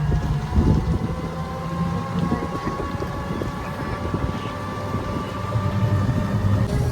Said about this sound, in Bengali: ফাইনালি ট্রেনে চেপে পড়েছি